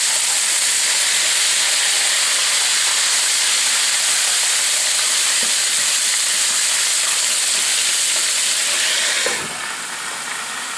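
Chicken fries in hot oil after being flipped, a loud, continuous hiss close up that drops slightly in level near the end.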